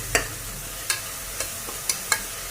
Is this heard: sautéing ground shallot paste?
yes